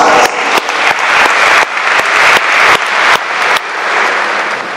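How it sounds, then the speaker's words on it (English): An audience claps at a Hispanic Heritage Month opening ceremony in Cleveland City Hall, producing loud, dense, steady applause for several seconds, with a few cheers mixed in, before it cuts off abruptly. "Let's give her a round of applause."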